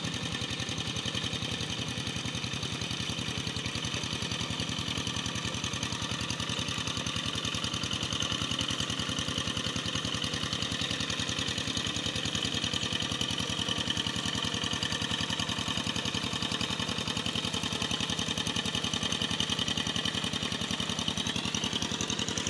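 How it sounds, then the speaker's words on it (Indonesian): Tractor engine running in a rice field, a steady mid-pitched mechanical drone at moderate level, continuous and unbroken with no speech. "Nah, ini ada orang traktor."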